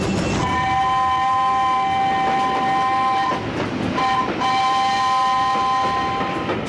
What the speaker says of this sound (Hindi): शब्बीर ने देखा कि ट्रेन आहिस्ता आहिस्ता कराची स्टेशन पर रुकने ही वाली थी।